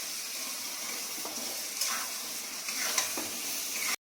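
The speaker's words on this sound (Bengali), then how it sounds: "আলুটা দিয়ে দিলাম, এবার সব কিছু একসাথে নেড়ে নেবো" Potatoes and vegetables being stirred in a cooking pan with a steady sizzling hiss and scraping, a few sharper clinks of the utensil against the pan, ending abruptly after about four seconds.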